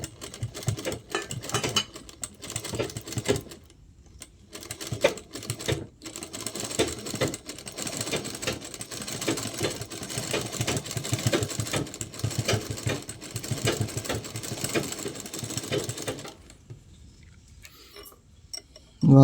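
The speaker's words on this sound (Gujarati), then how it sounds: "આ બધો કપડે કરી નાખીશું ને કાપડમાં સિલાઈ કરી કેમ થાય છે." A sewing machine stitching through cloth runs in a steady, fast mechanical chatter for most of the time, close and moderately loud, with brief pauses near the start and a stop toward the end.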